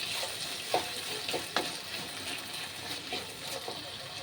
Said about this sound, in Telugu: ఇప్పుడు మీరు తీసుకున్న అన్నంకు సరిపోయేంత ఉప్పు టమాటాల పైన వేసి కలుపుకోండి.